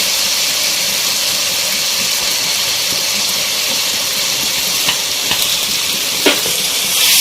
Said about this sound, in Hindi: अच्छे से बिल्कुल चिकन को आपको फ्राई कर लेना है।